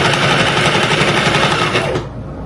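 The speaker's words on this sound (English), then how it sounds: "Just folding it over, put the foot down, keep it folded, right? We're doing a zigzag stitch." A sewing machine runs a zigzag stitch along folded abaya fabric, a loud, rapid, steady whirring rattle close by that cuts off near the end.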